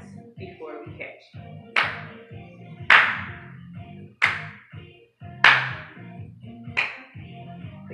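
Children in a first-grade P.E. class clap their hands once before catching a sock ball: a handful of sharp, distinct single claps spaced about a second apart, with an adult voice talking between them.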